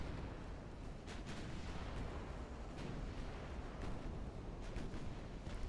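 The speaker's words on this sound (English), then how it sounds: "I'm gonna turn all firepower on this one battleship." Naval guns in a video game pound away at a battleship, a dense rumbling barrage of repeated booms and bursts that runs continuously at moderate loudness with no speech.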